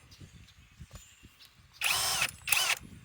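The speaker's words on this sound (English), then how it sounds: "This is the KOBALT right angle impact wrench." Kobalt 24V right angle impact wrench working on lug nuts, heard as two short loud bursts of whirring, hammering tool noise, the second briefer, after faint quiet handling sounds.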